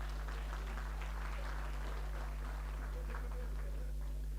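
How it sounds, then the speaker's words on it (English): Audience applause at a university staff performance awards ceremony honouring long-serving employees: a steady, fairly faint patter of many hands clapping in a hall, over a strong low electrical hum. "Let's give a clap for them."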